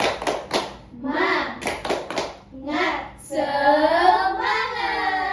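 Young children in a classroom chant and clap together in a rhythmic spirit clap, with bursts of sharp group claps alternating with sung-out voices, close and lively.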